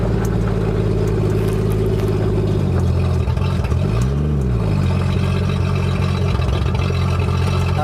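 A 1968 Plymouth Valiant's engine, with its carburetor cutting out, runs loud and close, droning unevenly and then dipping and surging in pitch as it sputters while driving.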